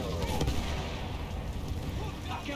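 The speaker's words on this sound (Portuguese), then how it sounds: "Artilharia!" Artillery fire in Battlefield 1: heavy, dense battle noise with rumbling booms and crackling blasts, loud and continuous with no clear pause.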